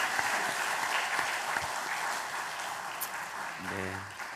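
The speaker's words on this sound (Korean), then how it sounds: "다시 한번 축복하며 박수해 주시기 바랍니다." A church congregation applauds during a Sunday worship service on Parents' Sunday, a sustained, even wash of many clapping hands. A brief voice or tone enters near the end.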